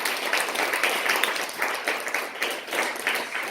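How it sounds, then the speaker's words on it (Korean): A church congregation applauds after a sermon, steady dense clapping from many hands filling the room for a few seconds. "우리 하나님께 영광이고 또 수고한 분들을 위해서 한번 다시 한번 박수 드리겠습니다"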